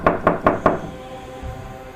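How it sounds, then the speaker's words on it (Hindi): Four sharp, evenly spaced knocks rap on a wooden door, close and loud, followed by a quiet room. "दरवाजे पर दस्तक हुई।"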